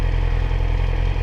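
Yamaha R6 sport motorcycle engine running: a short, loud, close steady drone with a rapid, even low pulsing, no voices.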